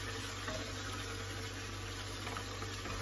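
Mutton pieces go into a hot pan for a namkeen gosht dish, producing a steady, moderately faint sizzle and frying hiss that holds evenly throughout with no voices.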